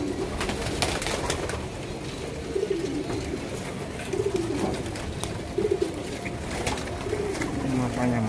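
Tame pigeons coo repeatedly inside a pigeon coop, their low rolling calls recurring every second or so against a busy background of nearby rustling and activity.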